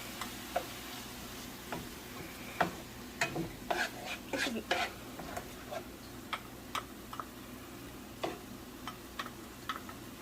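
Tomato sauce stirred into beef empanada filling in a pan: soft irregular scrapes and ticks of a spoon over a faint steady sizzle, quiet and close.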